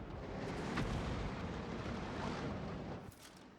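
A heavy self-propelled artillery gun firing in a tank battle game, heard as a faint, rumbling blast that rolls on for several seconds before dropping away.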